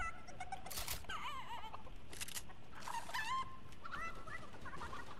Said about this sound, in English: I'm throwing my chicken.